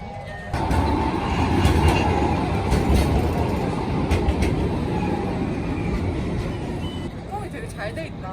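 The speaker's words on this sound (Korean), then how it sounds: "도시와 이렇게 가까이 트램이 지나가는 걸 보니까 너무 설레더라고요" A tram rolls into a city stop in Europe close by with a loud, steady rumble of wheels on rails, and a thin metallic squeal rises near the end as it slows.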